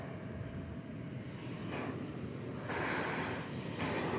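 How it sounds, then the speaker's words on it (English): An airliner arriving from Omaha, Nebraska at DFW Airport on a summer morning, a steady broad jet roar that swells louder partway through and stays fairly close, with no voices. "Here comes a flight from Omaha, Nebraska."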